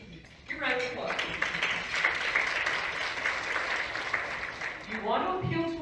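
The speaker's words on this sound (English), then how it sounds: "Give a round of applause." Audience at an event celebrating Indiana women breaks into sustained applause that swells quickly, holds steady for several seconds and then fades, with a speaker's voice at the start and end.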